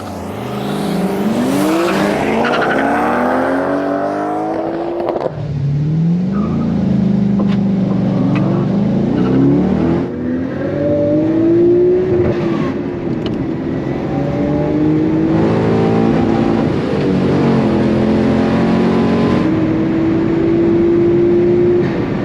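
Cars accelerating hard in a drag race, loud engines revving and rising in pitch through repeated gear shifts, one roaring pass blending into the next over about twenty seconds.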